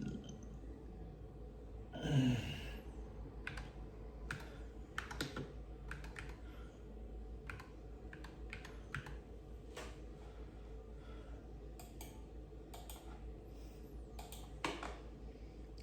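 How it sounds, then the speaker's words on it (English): Typing on a computer keyboard, scattered key taps spread irregularly over a quiet stretch, close and soft, with a louder clattering burst and a faint sigh-like breath early on. "Maybe if I learn how to type with one hand."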